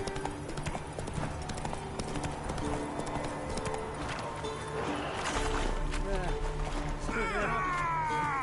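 Rhythmic hoofbeats of a galloping horse in The Witcher 3 pound steadily under game music and ambience, with a character voice breaking in near the end.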